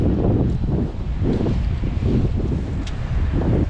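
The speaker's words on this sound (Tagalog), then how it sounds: "Nag-iiba po yung ihip ng hangin ah" Strong wind gusting outdoors out on open water far from shore, a loud continuous roar buffeting the microphone in rolling surges throughout.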